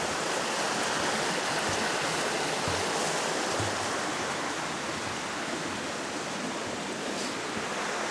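A swollen river rushes past a wooden footbridge in a wild, green gorge, giving a loud, steady roar of churning water that never lets up.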